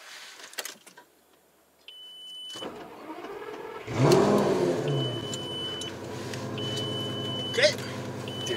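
A Lamborghini Gallardo engine is started up close, firing with a loud roar that settles into a rumbling idle with a rev blip, after a chiming warning tone; people talk briefly around it.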